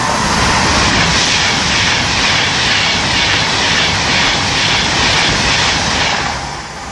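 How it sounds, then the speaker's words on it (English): A Class 390 Virgin Trains Pendolino roars through Acton Bridge station at speed on its run from Liverpool to London, a loud, steady broadband rush that holds for several seconds and eases off at the end. "now about to pass through is another Class 390 Virgin Trains pendling up from Liverpool Elm Street to London"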